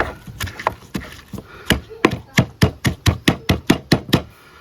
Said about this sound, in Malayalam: ചതച്ചെടുക്കുക.